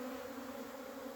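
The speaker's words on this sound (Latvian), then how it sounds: "bites kvalitatīvi tomēr aplidojusi" Honey bees take their first cleansing flight of the year in late February with snow on the ground, a steady, faint buzzing hum that holds without a break.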